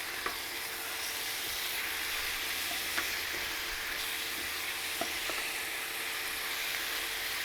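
Loud continuous sizzle of seasoned stew beef frying, with occasional scraping taps as it is stirred in the pan.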